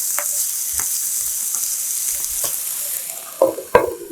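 Round pumpkin sizzles steadily in a pan as it is stir-fried with oligosaccharide syrup, green onion and cheongyang chili, with a few soft clinks of a utensil against the pan near the end.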